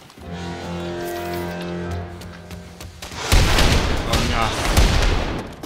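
Gunfire in Wolfenstein II: The New Colossus, a run of loud, sharp, repeated shots with booming impacts, first under a sustained tonal hum, then a dense volley in the second half.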